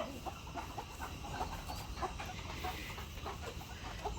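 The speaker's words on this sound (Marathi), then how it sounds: "ते कोंबडा पण आलाय, पण कोंबड्यांना काय फरक नाही पडत एवढा" Hens cluck steadily in a poultry brooding setup where a rooster has wandered in, with dense overlapping calls over a constant hum and no talking.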